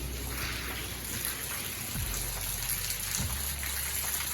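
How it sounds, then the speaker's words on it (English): Steady rain falls outdoors in a soft, constant hiss, fairly faint and unbroken, with a couple of brief low thumps partway through and no talking. "it still looks like this is raining pretty good on me"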